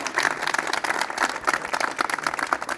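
A crowd of villagers claps steadily and densely throughout at a protest over a cement plant, a continuous patter of many hands with no pause, fairly close and lively.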